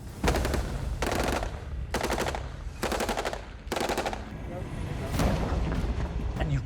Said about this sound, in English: got this intense aerial bombardment of key targets, and that is known as shock and awe